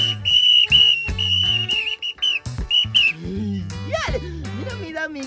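A found toy whistle is blown in repeated short shrill blasts, some held and some bending in pitch, sounding close and loud against a low musical background with brief voices.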